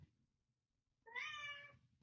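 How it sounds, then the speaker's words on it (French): A hungry cat gives a single clear meow lasting about half a second, close and fairly quiet, after a moment of near silence over low background hum. "il y a un petit chat qui a faim"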